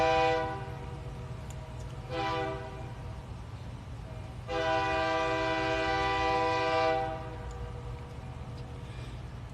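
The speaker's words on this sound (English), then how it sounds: "Train's getting closer." A train sounds its horn in the distance: a short blast, another short one, then a long sustained blast, over a steady low rumble of rolling cars and engine, with no voices present.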